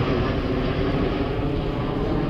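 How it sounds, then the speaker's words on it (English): A fixed-wing airplane passes overhead, a loud, steady broadband engine roar filling the whole stretch with no voices. "sorry about the plane noise."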